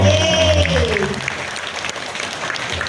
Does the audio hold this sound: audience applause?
yes